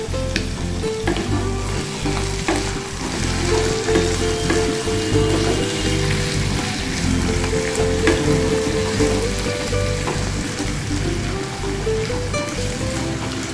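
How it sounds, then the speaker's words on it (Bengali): Chopped bottle gourd fries in a pan for a vegetarian Bengali dish, giving a loud continuous sizzle with occasional stirring scrapes and no talk. "দিয়ে এটাকে একটু ভেজে নিচ্ছি"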